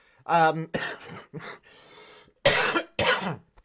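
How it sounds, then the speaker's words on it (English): A few harsh coughing bursts close by, separated by short pauses, with some vocal sounds mixed in. "Made me cough."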